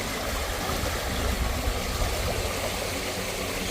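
Water rushes steadily past in an outdoor stream near a cornfield, a continuous close wash of flow that stays even throughout, with no talking.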